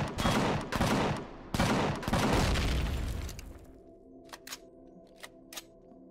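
Sentry guns in Empyrion Galactic Survival fire loud, dense bursts of rapid shots at close range, then stop, leaving a few faint clicks and thumps.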